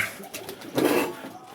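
Pet pigeon at a home loft giving a short soft coo, close and low, with faint background noise.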